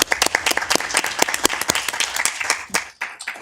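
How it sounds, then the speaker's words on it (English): At a city council meeting, a small group claps for the police chief, with individual claps clearly separated in a brisk, uneven burst that thins out and fades toward the end. "And an applause to our chief as well."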